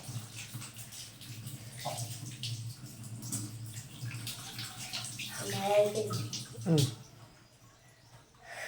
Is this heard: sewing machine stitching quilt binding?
no